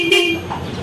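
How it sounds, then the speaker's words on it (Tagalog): A car horn sounds after its relay wiring has been repaired: one short, loud honk with a steady tone that fades quickly. "Sound check tayo kung gagana na ba yung ating busina."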